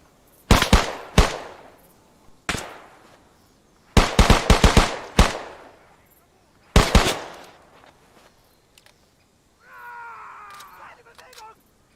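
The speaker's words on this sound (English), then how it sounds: "Taking fire!" Bursts of gunfire in an ArmA 3 World War II scenario: several loud volleys of rapid shots and single cracks, close and sharp, separated by short pauses, followed by a brief tonal whine near the end.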